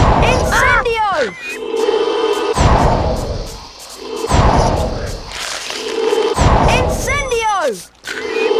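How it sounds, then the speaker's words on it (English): Repeated Incendio fire spells cast in the PS1 Harry Potter and the Chamber of Secrets game, as a series of loud whooshing, thudding bursts spaced a second or two apart, mixed with sweeping in-game voice sounds. "Let me just cast Incendio on that."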